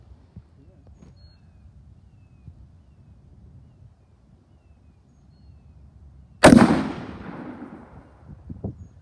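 A single loud, sharp blast as a Colt AR-15 A2 Government Carbine rifle round sets off a tannerite target, erupting abruptly after a quiet outdoor stretch and decaying over a couple of seconds, with a smaller pop following.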